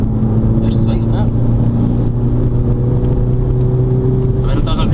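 A tuned Audi TT 8S TDI accelerating in third gear on wet roads, a steady diesel engine drone with rising tonal whine, heard from inside the car with a voice talking over it.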